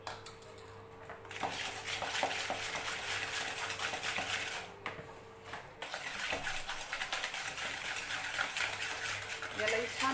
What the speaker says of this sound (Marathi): यालाही छान फेटून घ्यायचं.